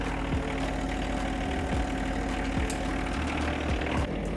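A tractor engine idling close by, a steady low rumble with a rhythmic knock that holds constant throughout.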